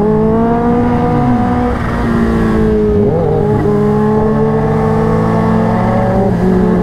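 Supercharged Kawasaki superbike revving during a drag race, a loud, close engine roar with the pitch rising and dipping as the throttle is worked, steady and continuous with no talk.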